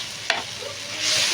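Chopped tomatoes sautéing in a hot pan for a miki chicken cabbage soup, a steady sizzle with a sharp scrape of stirring early on.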